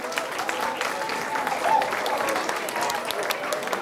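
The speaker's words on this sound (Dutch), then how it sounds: "Dankjewel, applaus." An audience at a carnival (Vastelaovend) event breaks into steady, moderately loud applause that carries on evenly for several seconds, with voices mixed in.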